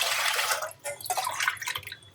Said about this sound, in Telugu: ఇప్పుడు 4, 5, 6 గ్లాసులు వాటర్ పోస్తున్నా